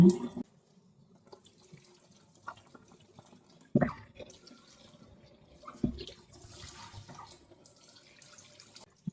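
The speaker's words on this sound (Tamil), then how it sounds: "நல்ல வடிவா சுடுதண்ணி ஊற்றி நல்ல வடிவா கருவாட்டை கழுவி எடுப்போம்" Dried fish being washed in hot water at a sink: water runs and splashes intermittently with a few sharp clatters, close and fairly quiet.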